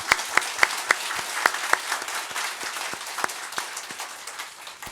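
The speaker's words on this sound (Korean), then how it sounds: "살아계신 하나님께 영광의 박수 하십시오." A church congregation at a Sunday service applauds, a dense, steady wash of many hands clapping for several seconds, moderately loud and slowly fading.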